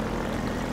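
A steady, droning helicopter engine hum with a low rotor-like throb in the video game Half-Life 2 Synergy, continuous and fairly loud, with no voices over it.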